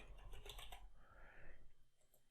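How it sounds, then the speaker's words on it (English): Quick bursts of typing on a computer keyboard while entering a search query, soft clicky keystrokes in a short run with a brief pause, close and quiet with no talking. "So if I type in Google Analytics here,"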